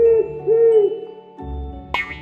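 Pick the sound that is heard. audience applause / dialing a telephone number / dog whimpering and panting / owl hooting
owl hooting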